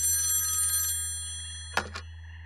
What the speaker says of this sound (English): ringing repeatedly. I was afraid to pick up because that's definitely not our phone.